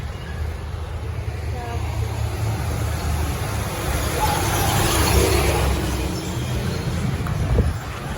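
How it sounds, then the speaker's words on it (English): Street traffic on a corner near a convenience store and residences, a continuous low rumble of passing vehicles swelling slightly midway, with wind noise and a voice talking over it. "Traffic is starting up a little bit."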